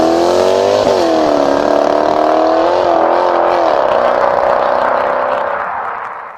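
Supercharged 4.2-litre V8 in a Jaguar XKR (X150) revving hard, a loud, sustained engine note rising and dipping in pitch through several blips before tapering off at the end, with no talking.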